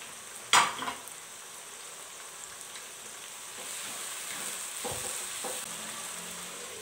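Tomatoes and green chilies cook in a pot over low to medium flame, giving a soft, steady sizzle that stays faint throughout, with a brief utensil clink near the start and a few light knocks later on.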